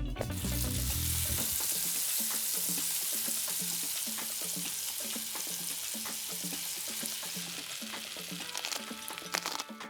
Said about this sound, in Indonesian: Goreng bola cumi sampai matang.